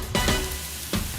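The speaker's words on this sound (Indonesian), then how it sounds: "Pertama, siapkan margarin di dalam wajan. Lalu, masukkan pasta bayam ala Liberta." Spinach paste dropped into melted margarine in a frying pan gives a brief burst of close sizzling with a short stir, then a second sizzle, in an Italian restaurant kitchen.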